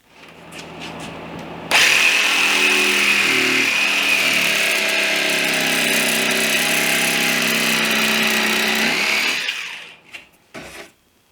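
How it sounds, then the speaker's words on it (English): A jigsaw cuts a notch in plywood for a trundle bed: a loud, close, sustained buzzing whine that starts abruptly, runs steadily for about eight seconds, then stops, followed by a few brief knocks. "And I will cut this out with a jigsaw."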